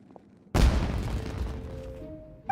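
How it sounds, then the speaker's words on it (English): A loud firework blast goes off in the Genshin Impact video game, a sudden boom at about half a second followed by a long crackling, rumbling tail that fades before a short pop near the end. "It sounded like fireworks."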